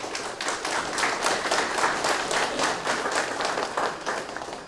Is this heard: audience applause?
yes